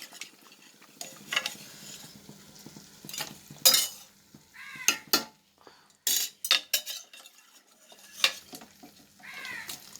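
Mutton is tipped into a pot for biryani and stirred, with intermittent scraping, clinks and clatters of a spoon against the pot separated by quiet gaps.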